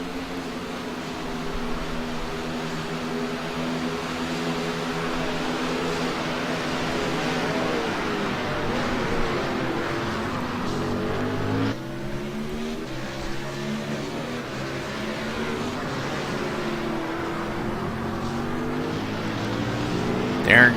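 BMW race cars racing on a circuit, a continuous loud engine roar with shifting pitch throughout, no gaps.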